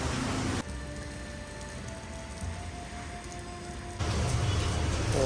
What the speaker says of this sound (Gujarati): પણ આવે છે વરસાદ.